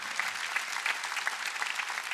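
A church congregation claps steadily at a worship service, a dense, even wash of many hands with no voice on top, moderately distant.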